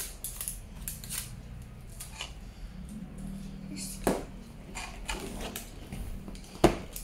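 A LOL Surprise toy wrapper is peeled open in close, faint crinkling and tearing sounds, with a few sharper snaps and soft clicks. Voices talk in between.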